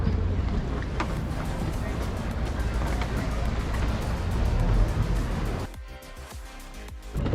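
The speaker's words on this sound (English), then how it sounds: "Gondola ride." A gondola glides along a Venice canal amid steady wind rush and water noise, loud and continuous, dropping to a quieter wash of lapping water near the end while people talk.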